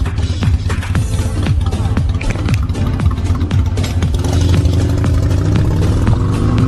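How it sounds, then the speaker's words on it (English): A motorcycle engine runs close by, a rough, continuous low rumble with clattering pulses that holds steady throughout. "it's a daggone motorcycle beside me"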